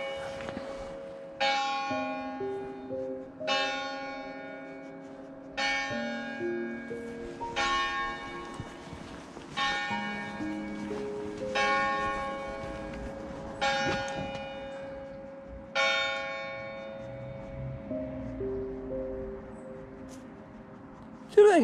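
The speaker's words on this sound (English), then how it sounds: "Westminster Chimes is going to tell you what time it is" Church bell in Carndonagh, County Donegal ringing the Westminster Chimes, slow separate strikes with long ringing decays spread across several phrases, loud and clear with a faint background murmur.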